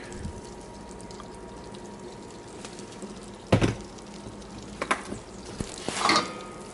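Granulated garlic sizzling in olive oil in a pan, a soft steady sizzle with a few clanks and scrapes of a utensil near the end, no talking.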